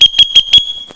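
Dog training whistle used to recall a puppy, four short, sharp, loud shrill blasts in quick even rhythm, alone with no talking.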